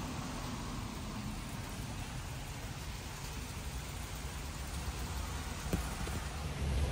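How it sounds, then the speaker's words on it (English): Steady soft hiss of light rain falling, continuous and even throughout, with a faint patter on surfaces and no voices. "it is still raining a little bit."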